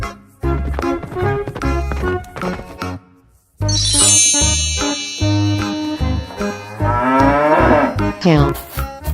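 Cattle mooing amid a busy run of animal sound effects, with bright chiming and tinkling tones layered in; loud, close and continuous, broken by a brief gap near the middle.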